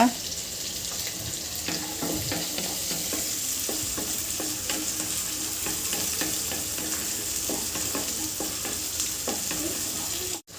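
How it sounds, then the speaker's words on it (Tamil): Onions and garlic sautéing in a pan for paruppu urundai kulambu, a steady loud sizzle with repeated stirring scrapes throughout, no talking. "இப்போ வெங்காயத்தை வந்து நல்லா வதக்கி விட்டுக்கோங்க"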